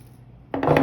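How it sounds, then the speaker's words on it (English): Wire cutters snip through green silk flower wire, giving one short, close crisp cut followed by a brief rustle, while a silk wreath is being made. "Make a cut with your wire cutters"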